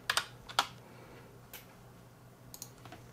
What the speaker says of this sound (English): you can just type in Handbrake.